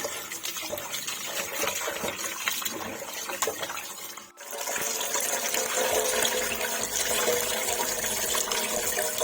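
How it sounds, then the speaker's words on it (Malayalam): Water poured over food while it is washed, a steady splashing, running flow close by that continues throughout with a brief dip partway, no talking. "ഇങ്ങനെ രണ്ട് മൂന്ന് പ്രാവശ്യമൊക്കെ കഴുകിയതിന് ശേഷം അതിൻ്റെ മുകളിലൂടെ കുറച്ച് വെള്ളം ഒഴിച്ച് കൊടുക്കുകയാണ്"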